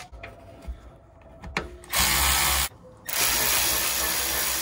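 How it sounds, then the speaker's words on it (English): A power tool whirs briefly with some ratcheting, then two loud, sustained bursts of an impact driver spinning at close range, loosening bolts during a rear brake pad and rotor change on a 2016 RAM 1500. "because I have some power tools, I'm gonna go ahead and take advantage of it"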